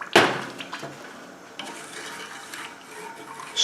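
A spoon stirs sugar and water in a saucepan on a stove, a sharp clack at the start followed by faint scraping and knocking strokes, close with no voices.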